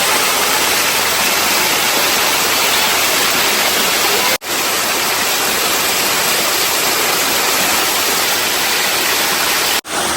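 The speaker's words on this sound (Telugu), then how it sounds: "ఈ కొండపై నుంచి వాటర్ అయితే వెళ్తున్నాయి చూడండి ఎంత స్పీడ్గా వెళ్తున్నాయో" Antharaganga waterfall near Ramoji Film City, Hyderabad, rushes down the hillside in a loud, close, unbroken roar of falling water, cut by two brief dropouts.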